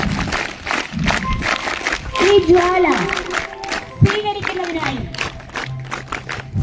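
Audience applause welcoming guests at an annual school sports meet at St Mary's UP school, Marayoor: dense, scattered clapping runs beneath a loud amplified voice speaking over a PA.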